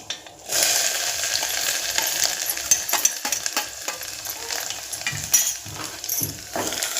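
Ground masala with cumin, mustard seeds and curry leaves fries in hot oil for a Marathi-style varan, sizzling steadily while a spoon stirs and scrapes the pan, with no talking.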